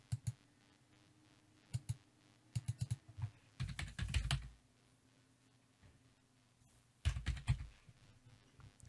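Computer keyboard typing into a Windows settings app search box, close and crisp, in short bursts of clicks with pauses between them, a denser flurry midway and another near the end, no speech.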